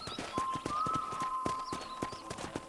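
Horse hooves clip-clop steadily at a walking pace in Red Dead Redemption 2, a series of close, crisp knocks with a faint tonal hum and light ambience underneath.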